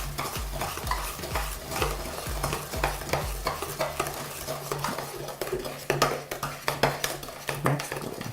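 Donut batter mixed with a perforated spoon, rhythmic repeated scraping and knocking strokes against a bowl, close and steady throughout.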